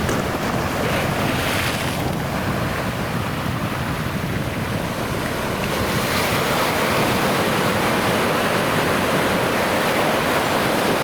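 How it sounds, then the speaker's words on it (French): Atlantic Ocean waves wash onto the beach at Kribi in a loud, continuous roar of surf mixed with wind noise across the whole stretch, with no voices. "Ici, la plage s'étend comme un tapis d'or déroulé par les dieux, caressé par les vagues infinies de l'Atlantique."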